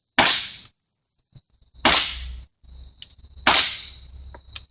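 Single-action airgun firing .20 BBs, three sharp loud cracks spaced about a second and a half apart, with faint clicks and rattles of handling between shots.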